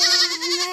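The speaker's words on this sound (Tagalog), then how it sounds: "Kambing!" A young goat gives a single short, wavering bleat, close and loud, in a rural provincial farm setting.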